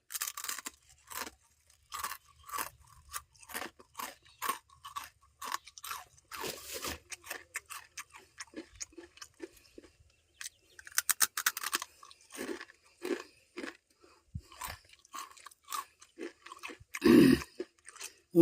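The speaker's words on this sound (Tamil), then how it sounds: "முறுக்கை ஒரு நொறுக்கி பார்ப்போம்" Crisp murukku snack gets bitten and chewed up close, a long run of sharp crunches and brittle cracks with short pauses, growing louder toward the end.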